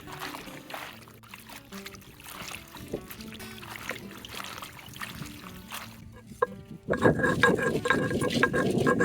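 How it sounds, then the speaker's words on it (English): Baobab leaves washed in water to rinse off sand, soft sloshing and trickling at first, then a louder burst of splashing and swishing water near the end, close by. "So we are going to wash this just to get rid of sand"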